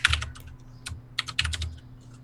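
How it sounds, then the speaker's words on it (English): Quick bursts of keystrokes on a computer keyboard during a tabletop roleplaying session, two clustered runs of clicking separated by a short pause, close and fairly clear over a low steady hum. "I keep typing"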